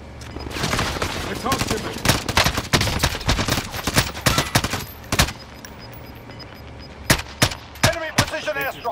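Rapid gunfire in a video game match: bursts of sharp, loud shots, some in quick double and triple clusters, scattered across the span with brief pauses, while players talk quietly underneath.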